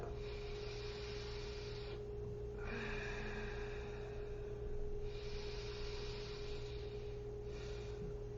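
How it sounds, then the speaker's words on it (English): A yoga class breathes slowly in and out through the nose. The soft, airy breaths come in long, even waves over a constant low electrical hum, with no talking. "We are breathing in through the nose and out through the nose. Listening to the sound of the breath."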